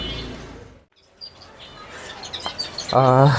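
Caged birds chirping on a winter morning, a few short bright tweets close by, followed by a brief voice at the end.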